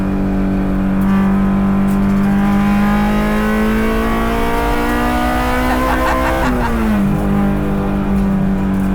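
A Honda S2000 time attack car's engine drones loud and close under load, its pitch climbing steadily, then dropping sharply around a shift before rising again, with faint tire noise beneath.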